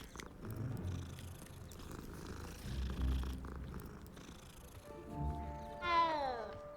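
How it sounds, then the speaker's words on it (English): A cat in Hogwarts Legacy purrs steadily while being petted, a soft, low rumbling loop that closes with a short rising meow. "Well, I gotta pet the other cat too"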